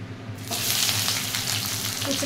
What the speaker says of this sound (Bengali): পেঁয়াজ দিলাম, সব দিয়ে দেবো এখন